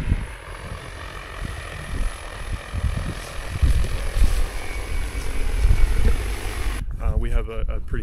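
A DJI agricultural spraying drone flies on a farm, its steady rotor drone filling the clip loud and close, rising somewhat toward the end before cutting off abruptly near the finish.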